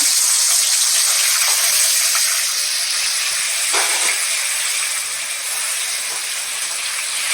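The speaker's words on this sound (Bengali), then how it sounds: "তেলটা গরম হোক, এখনো গরম। হ্যাঁ, মাছটা দিলাম।" Steady loud sizzling hiss of catla fish frying in hot oil, close up and continuous, with a brief crackle partway through.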